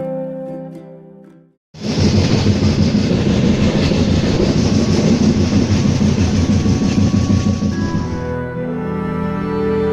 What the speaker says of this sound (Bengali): ট্রেন টাইমেই ছাড়লো